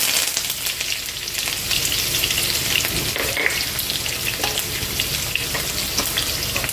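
Sliced onion and a sprig of curry leaves sizzling loudly in hot oil with already-popped mustard seeds, a dense, steady crackle and hiss close up, with no talking.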